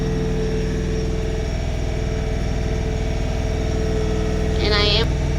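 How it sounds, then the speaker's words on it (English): A small tractor engine running as it creeps along slowly on a flower farm, a steady low chugging drone that holds loud and even, with a brief higher squeal near the end. "But this is me driving my tractor."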